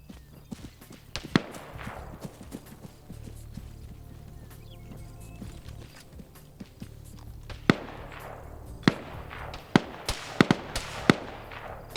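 Sharp gunshot bursts from an OFCRA PvP multiplayer match between DEA and Gangsters teams, with scattered single cracks and quick clusters of shots, some loud and close, over a steady low ambient rumble.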